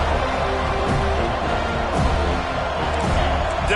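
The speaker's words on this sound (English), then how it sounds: "Decibels rising as the crowd gets behind this defense on third down." Football stadium crowd roaring steadily for the defense on a third down, a dense continuous wall of cheering with no breaks.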